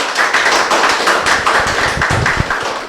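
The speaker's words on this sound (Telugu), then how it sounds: "గట్టిగా క్లాప్ చేద్దాం" Loud applause from a gathered audience at a Sunday meditation event, dense rapid clapping sustained for a few seconds with no voices.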